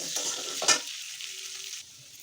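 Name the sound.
potatoes frying with salt and turmeric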